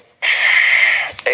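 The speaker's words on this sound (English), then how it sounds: "First exercise, inhale," A single deep inhale taken during a lung exercise, a long breathy rush of air drawn in close to the microphone, followed by a brief catch and the start of another breath.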